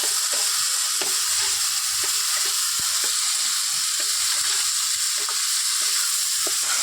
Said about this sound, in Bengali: দুধটা আমি দিয়ে দিলাম। দিয়ে একটু নাড়াচাড়া করবো।